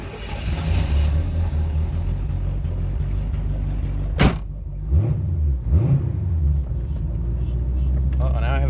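A cheap older Corvette with newly fixed brakes and a repaired valve cover leak rumbles close by as it pulls away, its engine note rising and falling, with a sharp transient partway through and a person talking over it.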